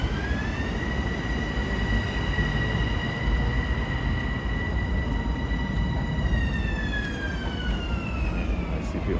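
An LIRR train pulls into Woodside station with a heavy, continuous rumble of wheels on rails, and a long sustained horn tone rides above it for most of the passage.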